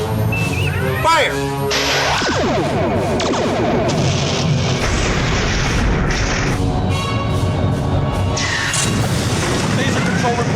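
Starship torpedoes fire in a science-fiction space battle sound effect, with deep booms and rising, sweeping electronic tones layered into a loud, dense barrage.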